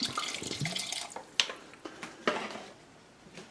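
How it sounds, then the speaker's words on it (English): Water pours and splashes into a cooking pot of pork menudo, a close, uneven stream with a few clanks of metal against the pot. "I added some more water, bring the liquid up to it."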